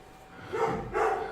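Dogs barking at the postman, two muffled barks in quick succession from indoors, moderately loud with no speech over them.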